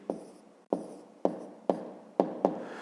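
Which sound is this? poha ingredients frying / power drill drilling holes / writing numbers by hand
writing numbers by hand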